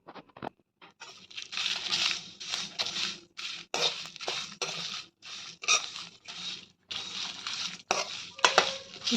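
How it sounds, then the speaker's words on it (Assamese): Whole spices with dried chillies and bay leaves fry in a pan, giving off a quick, irregular crackle and spatter of oil that rises and falls in short bursts. "ধুনীয়াকৈ গোটেইখিনি ভাজি ল'ব আগতে।"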